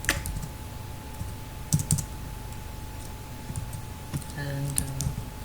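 Java JDBC code for a MySQL connection is typed on a computer keyboard in uneven bursts of close, quick key clicks, with someone talking softly over the typing.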